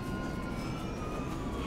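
Jet aircraft passing overhead in the video game GTA 5, a steady loud roar with a high engine whine held for under two seconds, no voices over it.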